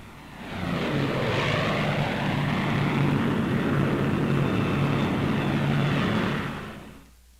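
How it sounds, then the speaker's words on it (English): A Lockheed Lightning propeller aircraft drones past, rising from quiet to a loud steady roar for several seconds before fading away at the end. "Those Lockheed Lightnings carry with them the hopes and dreams of the American kids who helped put them in the"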